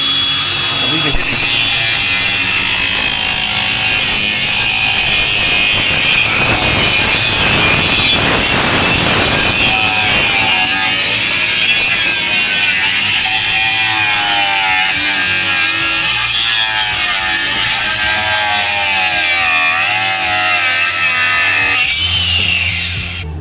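A power saw cuts through a weatherboard wall behind a stud in a difficult cut, its harsh rasping whine rising and falling in strokes, loud and close, with people talking over it.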